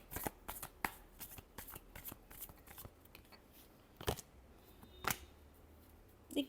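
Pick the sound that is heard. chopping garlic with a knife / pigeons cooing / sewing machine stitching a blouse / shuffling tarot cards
shuffling tarot cards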